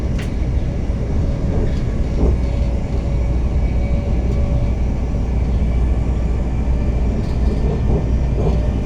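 Steady loud rumble and rattle of a Greater Anglia Flirt passenger train, heard from aboard a full twelve-carriage service between Stansted Airport and Liverpool Street, with faint squeaks and thumps over the tracks.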